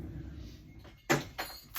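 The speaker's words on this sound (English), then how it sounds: "Sorry, I had to close my door." A room door is pulled shut, giving a sharp close thump followed by a couple of softer latch and rattle sounds, near and fairly loud against quiet indoor background.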